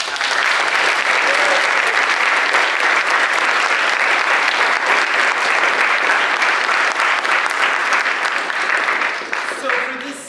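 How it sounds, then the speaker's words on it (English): Loud, sustained applause fills a concert hall at a university and high school choir concert, a thick, continuous roar of clapping that holds steady for about nine seconds before tapering off. "I would like for us to give him a round of applause."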